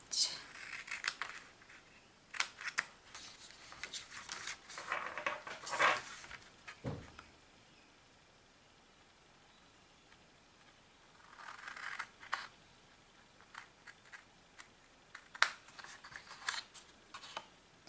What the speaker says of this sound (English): Cut that one out.